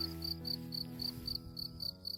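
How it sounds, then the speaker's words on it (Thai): Crickets chirp in the Romanian countryside, a regular, high-pitched pulsing trill repeating steadily at moderate volume over quiet background. "ได้ยินเสียงจริงหรีดป่ะคะ"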